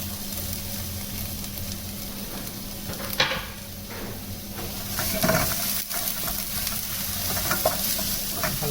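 Carrots and capsicum fry in a little oil with a steady, continuous sizzle, joined by occasional stirring scrapes and a few louder clatters of the spoon against the pan, with no voices.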